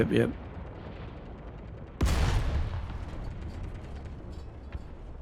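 A tank gun fires in the War Thunder video game, one sudden loud boom followed by a long rumbling decay, with a shorter burst at the very start and faint background noise.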